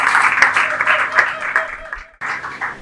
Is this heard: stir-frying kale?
no